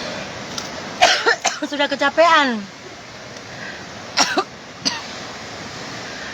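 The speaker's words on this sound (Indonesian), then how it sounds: "kalau sudah batuk begini guys" A person coughs in a short burst around one second in, followed by a longer strained wheezy stretch and two more isolated coughs, with brief speech in between.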